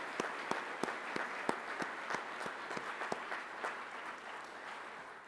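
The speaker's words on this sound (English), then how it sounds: "Let's give her another round of applause for all the work that she did" An audience at a church synod assembly Bible study gives a round of applause, a steady wash of many hands clapping at moderate distance that holds for several seconds and tapers slightly at the end.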